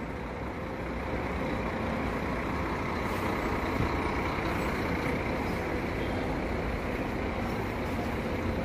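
A Gontijo coach bus on the Anápolis–Rio de Janeiro route pulls in at a terminal. A steady, loud, broad engine rumble and road noise carry on throughout with no talking.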